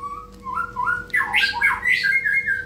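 A white-rumped shama (murai batu) with a black tail gives a short run of harsh squawks and whistled notes, close and clear with no voices.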